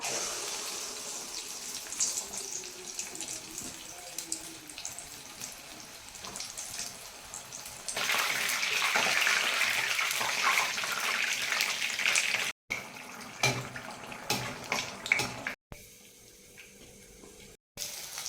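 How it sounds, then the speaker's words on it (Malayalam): Egg surka, a Malabar fried batter snack, frying in hot oil: a steady watery hiss that grows louder and brighter partway through and keeps sizzling, with a few brief dropouts near the end and no talking. "ചൂടായ എണ്ണ ഒഴിച്ചു കൊടുക്കുക ഇനി നമുക്ക് ഒരേ വിധം പൊരിച്ചെടുക്കാം"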